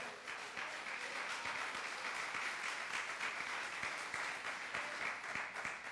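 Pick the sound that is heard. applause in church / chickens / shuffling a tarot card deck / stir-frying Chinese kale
applause in church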